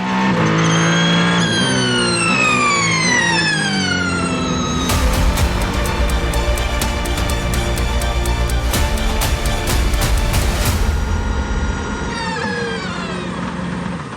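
Ferrari race cars at Le Mans 2024 scream past, engines rising and falling in pitch, then a loud, dense rush of a car passing close before another engine note climbs away.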